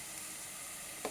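Ginger garlic paste hits hot oil with a steady, even sizzle, close and moderately quiet, ending on a brief stir or clink, with no voices.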